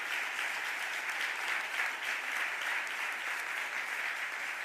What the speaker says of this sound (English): Please give our providers a huge round of applause.